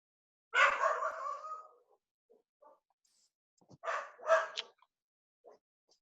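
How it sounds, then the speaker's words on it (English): A dog barks a few times nearby, a drawn-out bark followed by a pause, then two sharp barks, with quiet gaps between. "my dog is barking"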